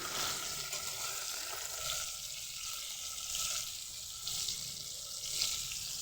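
Prawns frying in hot oil, a steady crackling sizzle with occasional louder spits and no talking.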